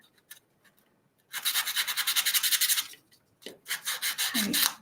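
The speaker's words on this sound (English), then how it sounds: "Just going to give that a little bit of a sand." A painted wooden heart, base-coated red, is lightly sanded by hand in two bursts of quick, close back-and-forth rasping strokes, separated by a short pause, with no talking.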